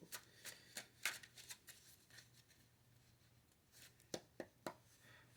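Quiet, close riffling and snapping of cards in quick bursts, with a pause between shuffles and a faint hum underneath.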